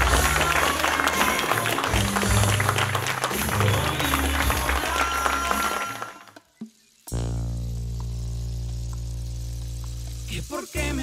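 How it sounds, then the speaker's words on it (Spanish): Wedding guests burst into dense, crackling applause for several seconds, which stops abruptly before sustained music takes over. "aplausos a Dios"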